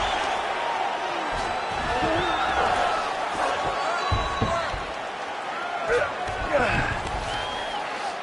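An arena crowd at a mixed martial arts fight cheers and whoops in swelling bursts, with scattered shouts and thuds, while commentary voices talk over the noise.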